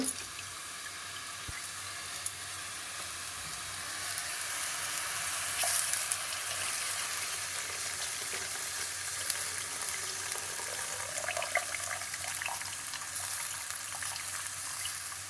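Water runs in a steady, hissing stream over a paste of ground black mustard seeds, a close, continuous splashing rush that lasts throughout without any talking.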